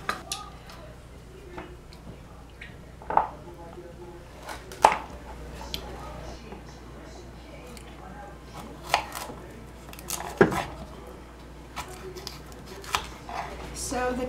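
Knife chopping cooked kale on a cutting board, scattered crisp thuds at uneven intervals over a low steady background hum, close by, with some speech around the cutting.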